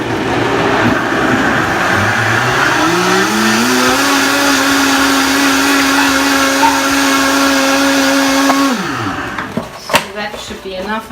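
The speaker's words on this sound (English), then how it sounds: "And now I'm gonna blend this." A Vitamix blender whirs through waffle batter for gluten-free, dairy-free, oil-free waffles, a loud steady motor whine climbing in pitch, holding, then winding down abruptly near the end, with someone speaking over it.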